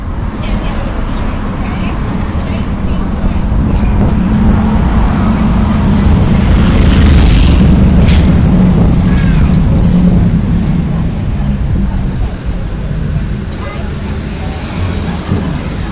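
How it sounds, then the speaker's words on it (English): Steady roar of passing vehicles on a busy road, a dense continuous wash of tyre and engine noise heard close by, with muffled chatter from people nearby underneath. "The noise of vehicles, as it's quite a busy road"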